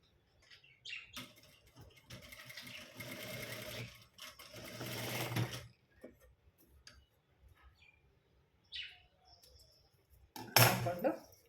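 Sewing machine running marker stitches on a blouse shoulder strap, two sustained close stitching runs, the second longer, with quiet gaps, small clicks and a sharp burst near the end.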